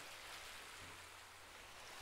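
Steady broadband wash of ocean waves on a beach, continuous and soft, rolling without distinct breaks and with no voices.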